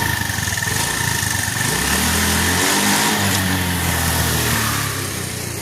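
A petrol two-wheeler engine at a driving school revs up from idle and climbs in pitch while the rear tyre spins, loud and close, then settles back down.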